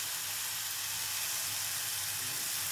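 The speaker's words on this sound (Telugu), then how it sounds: "కొంచెం వేగిందండి," Leftover vegetables fry in a pan with a steady, dense sizzle and hiss, constant and close with no voices.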